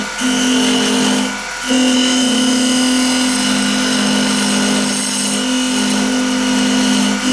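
A wood lathe turns an ash maple bowl, its steady motor hum running loud and continuous with a brief dip near the start, while the cutting tool scrapes along the spinning wood and chips out from being pushed too fast.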